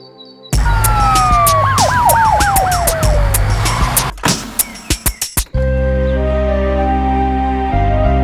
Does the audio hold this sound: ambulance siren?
yes